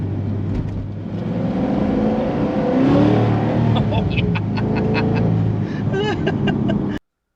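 A C6 Corvette Z06 fitted with American Racing headers revs its engine in a loud, steady growl with rising tones, while someone talks over it.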